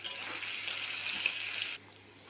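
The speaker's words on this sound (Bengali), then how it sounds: "আলু পেঁপে একসাথে দিয়ে এবার একটু ভেজে নেবো ভালো করে, লাল লাল করে।" Potatoes, papaya and capsicum frying together in a pan make a steady, fairly quiet sizzle that stops abruptly near the end.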